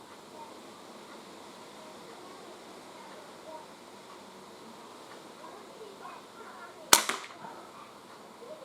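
A Crosman 2240 CO2 air pistol fires once outdoors, a single sharp crack standing out clearly over quiet background noise.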